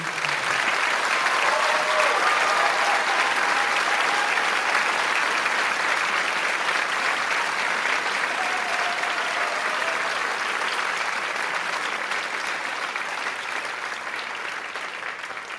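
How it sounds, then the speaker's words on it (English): An audience at a high school winter band concert applauds the band students, a dense, sustained clapping that fills the hall and slowly thins and fades toward the end. "would you please help me give those students a huge applause"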